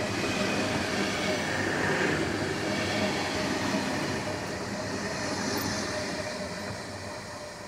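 A passenger train, including a restaurant car, rushes through a station past the platforms at about 40 km/h, its loud steady roar and rumble filling the scene and slowly easing toward the end, with no talk over it.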